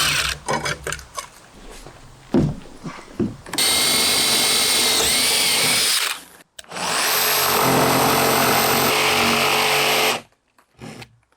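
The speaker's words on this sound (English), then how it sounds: "I do that by screwing the screw at an angle down" Power drill driving a screw at an angle to tighten a metal band around an inground wooden pool, with a few knocks followed by two long, loud, close whirring runs, each several seconds.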